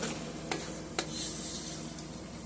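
Spaghetti mixed in a pan for baked spaghetti, a steady wet sizzling hiss with a few brief sharp scrapes of the utensil, close and fairly loud, no voices.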